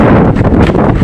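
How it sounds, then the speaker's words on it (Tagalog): Gusting wind buffets the microphone outdoors under darkening skies before a typhoon, loud rumbling blasts with slight rustle, no talk. "sisimula na yung hangin."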